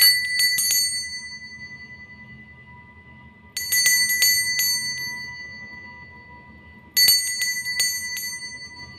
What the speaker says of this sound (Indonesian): kita akan melanjutkan dengan ditandai lonceng berbunyi